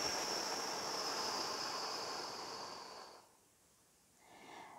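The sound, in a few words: slow exhale breathing during meditation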